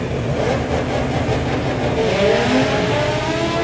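Two naturally aspirated drag racing cars launch side by side on the quarter-mile strip at Santa Pod, producing a loud, sustained roar of revving engines that fills the whole stretch without pause.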